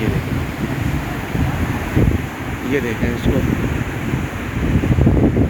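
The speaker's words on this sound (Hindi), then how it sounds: "ये बहुत बेहतरीन साहिल है" Strong wind and surf on Manora Beach, a continuous roaring rush of waves and gusts buffeting the microphone close up, while someone talks over it.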